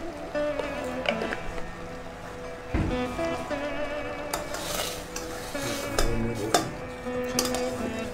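Cashews, raisins and coconut fry in ghee in a pan for Kerala-style aravana, a steady close sizzle under repeated scraping and clinks of a metal spoon against the pan, with no talking.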